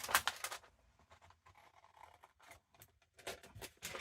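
Scissors cutting a paper window envelope for a junk journal page, heard as quiet, close bursts of crisp snipping and paper scratching separated by short pauses.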